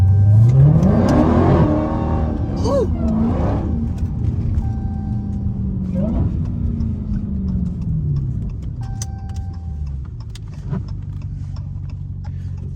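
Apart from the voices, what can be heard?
Dodge Hellcat car engine revving in the rain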